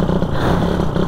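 A motorcycle engine with a fault runs roughly in Zamboanga City, a steady loud uneven rumble with clattering texture throughout, close by and with no talk over it.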